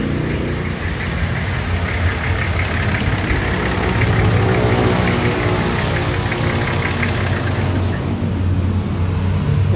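A Nissan Patrol engine idles steadily and loudly up close, a continuous mid-range rumble with a faint clatter that holds level the whole time.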